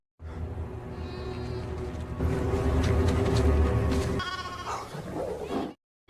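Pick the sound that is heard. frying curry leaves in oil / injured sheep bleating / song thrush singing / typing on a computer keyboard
injured sheep bleating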